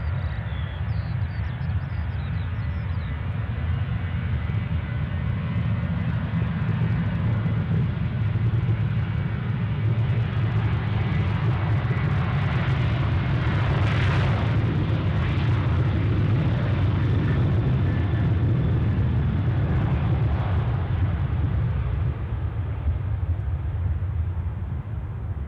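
A departing airliner at Glasgow airport sends out a loud, sustained low rumble and roar that holds steady throughout, swelling slightly in the middle, heard from a distance with no voices.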